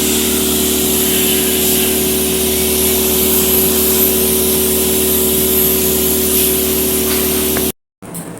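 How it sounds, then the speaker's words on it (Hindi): A steady, hissing liquid spray runs continuously during a beauty treatment, loud and close with a constant mechanical hum underneath, then cuts off abruptly near the end. "ये स्प्रे से डालते हैं जिससे कि"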